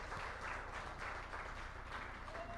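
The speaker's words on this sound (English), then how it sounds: "We can still give them a big round of applause because we are live streaming" A live-streamed anniversary celebration for the Brain Injury Association of North Carolina carries steady, dense audience applause, an even wash of many hands clapping at moderate distance with no talk over it.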